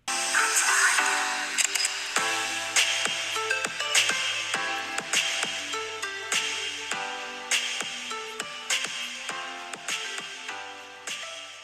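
Music plays from an iPhone X speaker, with bright plucked notes and steady beats, somewhat thin and tinny, with no talking.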